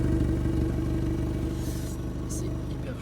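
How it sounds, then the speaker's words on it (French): Fiat 500 Abarth 135 hp in sport mode, warmed up after a drive, idles with a steady low exhaust burble and rumble, close and continuous, while a voice talks faintly over it. "voilà le bruit d'échappement."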